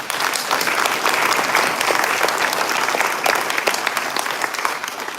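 Sustained applause fills a room at a State of the North County gathering, many hands clapping loud and close in an even, dense patter for about five seconds with no talk.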